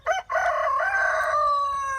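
A rooster crows loudly and close by inside a chicken coop, a short opening note followed by a long, drawn-out call that holds steady and then tapers off, with no other sounds alongside.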